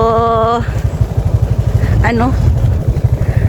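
A motorcycle engine drones steadily and loudly while riding along on a trip, with voices calling out over it.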